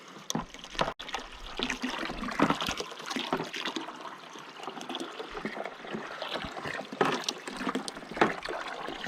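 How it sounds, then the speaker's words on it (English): A Little Giant 1/3 hp submersible pump pours water into a 5-gallon container, a soft, continuous trickling and splashing close by with occasional small knocks. "you can see how long it takes to fill 5 gallons"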